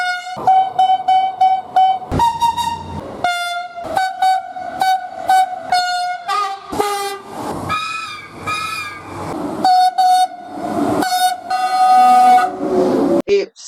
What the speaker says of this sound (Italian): Ogni treno che ho ripreso mi ha strombazzato.